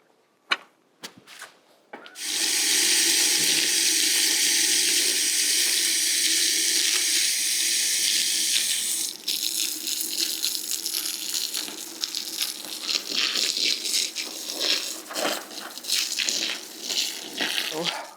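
Water gushes steadily from a hose onto the soil around a freshly transplanted rose in a cottage garden, a loud continuous splash after a couple of faint knocks, shifting in tone partway through as the stream moves.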